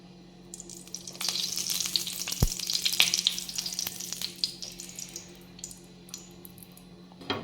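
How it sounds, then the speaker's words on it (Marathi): Oil sizzling in a hot pan before fish pieces go in, a steady bright crackle with scattered pops and a low background hum, continuous and close throughout. "तर पीसेस तळण्यासाठी आता मी पॅनवरती अगोदर तेल टाकून घेते."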